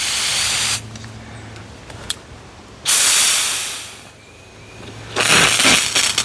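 Water hisses in strong bursts from a garden hose on a wall-mounted retractable reel set to full pressure, three loud spray blasts separated by quieter pauses.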